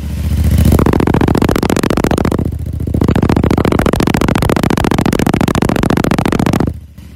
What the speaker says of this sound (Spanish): que sería la prueba del sonido del escape, para ver qué tal suena